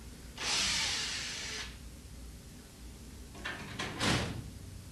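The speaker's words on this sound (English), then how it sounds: "Remove the last screw while supporting the panel and door." Front panel and door come off a tumbler dryer: a long scraping slide of metal, then a couple of sharp knocks and clunks as the panel is handled, with no talk.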